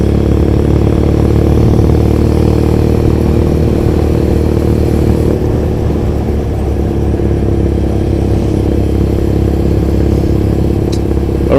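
Motorcycle engine running steadily while riding through Tokyo streets, a continuous mid-pitched drone with road and wind rumble throughout, loud and close with no pauses.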